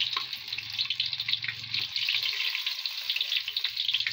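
Banana blossom omelette frying in a pan, a steady bright sizzle with crackling spatter, continuous and fairly close but soft in level.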